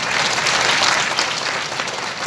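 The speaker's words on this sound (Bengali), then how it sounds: "ওনার জন্য জোরে হাততালি।" An audience claps loudly and steadily, a dense, continuous wash of applause throughout with no break or voices.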